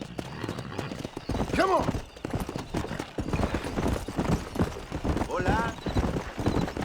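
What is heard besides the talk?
horse hooves clip-clopping while riding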